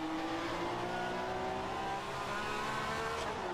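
A 1967 Formula One race car in a racing video game at Silverstone holds a steady, buzzing engine note that sinks gradually as it brakes for a corner, alone and continuous throughout.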